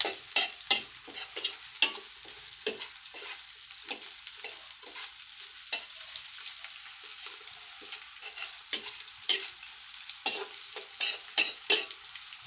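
A spatula scrapes and clatters in a pan of sizzling food, with a soft steady fry underneath and repeated short stirring strokes close by.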